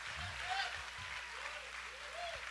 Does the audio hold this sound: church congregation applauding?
yes